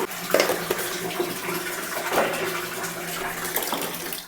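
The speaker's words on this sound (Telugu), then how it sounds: "నేనైతే హాట్ వాటర్ కొంచెం పట్టుకుంటాను అలాగే నార్మల్ చన్నీళ్ళు పట్టుకొని" Hot and cold tap water runs into a bucket in a continuous, steady gush, with a few clanks and knocks against the container, close by.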